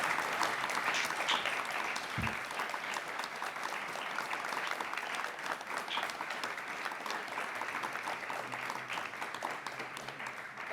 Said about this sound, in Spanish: Yo quiero un aplauso extraordinario.